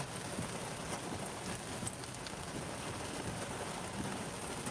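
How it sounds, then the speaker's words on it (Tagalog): Dense, steady heavy rain in Metro Manila hisses across the whole clip, with scattered drops pattering on surfaces and no voices. "Talagang malakas po yung ulan."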